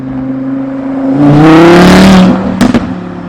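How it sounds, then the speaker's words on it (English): An Audi R8 engine swells loudly nearby in a hard rev, peaks, then drops away with a quick crackling burst of downshift pops at the end. "I've just heard the loudest downshift from the loudest of Audi R8s"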